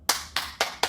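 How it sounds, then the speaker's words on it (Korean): Four sharp, evenly spaced hand claps ring out close and clear in a practice studio, each a crisp single slap with short decay and no talking. "박수."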